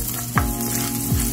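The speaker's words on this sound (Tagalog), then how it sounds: "Guys, magigisa na tayo ng ating bawang" Garlic sizzles steadily in a frying pan that already holds pork and eggplant, with a close, even crackle and a couple of brief stirring scrapes, no voices.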